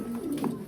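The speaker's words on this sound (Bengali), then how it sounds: "এটা আমার নিজের পছন্দের কবুতর" A single pigeon gives a brief, soft, throaty coo, heard close and alone.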